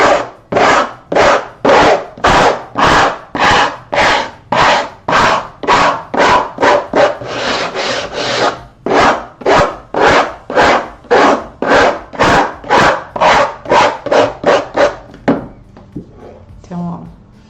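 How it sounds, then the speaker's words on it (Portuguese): Fine sandpaper rubs back and forth over wood in quick, even strokes, loud and close. The scratching rhythm keeps up with a brief change in pace midway, then fades at the end. "Venho e mesmo assim ainda passo a nossa lixinha, essa mais fininha aqui,"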